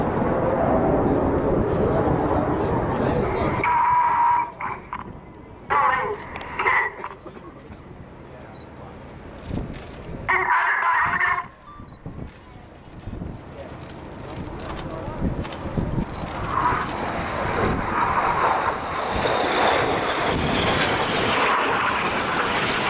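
RAF Red Arrows jets fly a display at the Royal International Air Tattoo 2013, loud roaring passes that surge, drop away and return, with wind buffeting the microphone and a commentator talking throughout.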